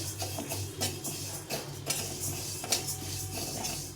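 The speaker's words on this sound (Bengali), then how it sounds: "এখানে কড়াই বসিয়ে দিয়েছি, কড়াইটা গরম হয়ে গেছে। আমি ডালটাকে একটু ভেজে নেব।" Moong dal dry-frying in a hot kadai, with a spatula repeatedly scraping and clinking against the metal pan in an irregular stirring rhythm, close and fairly soft, with no talk.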